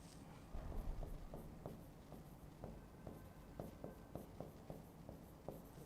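Chalk or marker strokes on a board during an ethics lecture, a string of short scratchy taps and scrapes in an irregular rhythm, close by over a steady room hum.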